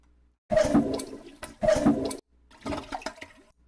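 A toilet flush sample is chopped into a looping music beat, with two identical rushing water bursts followed by a shorter, quieter fragment, close and dry.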